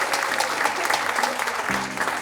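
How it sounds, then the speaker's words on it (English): A crowd at an affordable housing grand opening in Los Angeles claps steadily, a moderate, even patter of many hands with a faint voice briefly audible near the end. "let's clap for them too."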